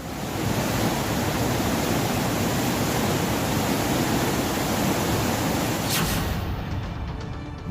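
Fast floodwater rushes through the Kedareshwar temple complex during flooding in Maharashtra. A loud, steady, broadband roar runs unbroken and then cuts off abruptly near the end.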